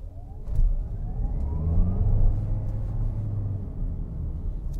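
The engine of an MG EHS plug-in hybrid revs under hard acceleration, a deep rumbling drone that climbs steadily in pitch and stays loud and close throughout.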